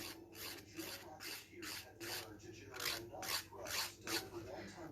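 A hand file rasps steadily across a handmade piece in close, even strokes, about eight passes over five seconds, each a bright scratchy sweep followed by a brief pause.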